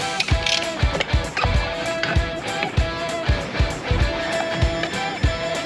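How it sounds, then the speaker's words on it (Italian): A ratchet wrench clicking steadily while loosening the rear axle nut on the shaft drive of a Yamaha Super Ténéré motorcycle, with rapid evenly spaced pawl clicks, close and clear, and no talking. "Sullo supertenere con il cardano bisogna prima svitare il dado, quello appunto dove si trova il cardano"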